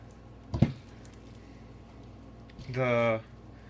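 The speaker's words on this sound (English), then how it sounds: "if I wet my hand and I start mixing in, the dough tends to come off of my hand" A wet hand mixes sticky poolish dough for baking, giving one brief, close, wet squelch. A short voiced sound follows a couple of seconds later.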